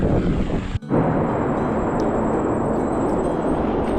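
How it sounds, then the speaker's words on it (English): An F-16 fighter jet roars low overhead, a loud, continuous broadband rush that fills the clip, with one brief dip near the start, outdoors along a rural river trail. "That was like an F-16 or something. Oh my gosh, that was so loud and so friggin' scary."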